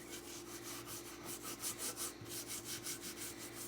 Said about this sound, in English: just scrub those pliers, or any tool